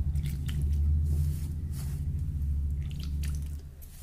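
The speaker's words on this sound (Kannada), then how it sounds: "ಇದಕ್ಕೆ ನೀರು ಹಾಕಿ ನಾದದದು ತೋರಿಸ್ತೀನಿ ನೋಡಿ." Chakli dough being kneaded by hand with cold water, giving a steady, close, wet squishing and squelching that runs on through the whole stretch with no talk over it.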